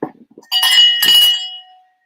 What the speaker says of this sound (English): We got to ring the bell.